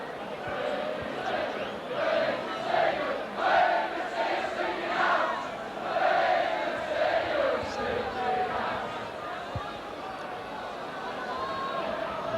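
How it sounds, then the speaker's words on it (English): Rugby league crowd at a 1990 Leeds versus Castleford playoff, cheering and roaring as a kick goes high, a continuous swelling stadium noise with bursts of louder shouting throughout. "It's high and the crowd are cheering."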